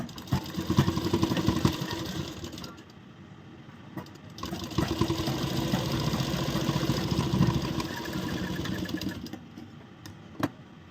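A sewing machine stitches a seam on a corset blouse, whirring in two long runs separated by a short pause, close and steady, with a final brief burst and a click at the end.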